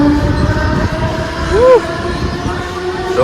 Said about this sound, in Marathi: स्लो ट्रेन पकडून जाऊया